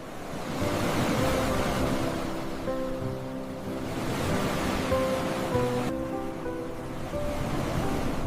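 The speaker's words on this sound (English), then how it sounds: "Ocean waves produce a specific acoustic signature." Ocean waves break on a shore in a continuous, layered roar, swelling and easing in long surges with no clear start or end, loud and unaccompanied by any voices.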